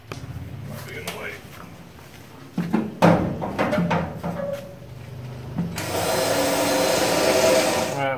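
Power tool drilling holes in the kick panel of a 1966 Ford Bronco under restoration, a steady whirring grind that builds and holds loudly near the end after earlier clanks and scraping.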